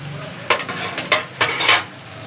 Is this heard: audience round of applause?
no